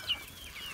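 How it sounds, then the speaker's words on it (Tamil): A Kadaknath black chicken clucks once, short and faint, on a farm where the chickens are raised naturally, against quiet open background noise. "இதுதான் வந்து கடக்கநாத்துங்கிற கருங்கோழி வகையை சேர்ந்த கருங்கோழி"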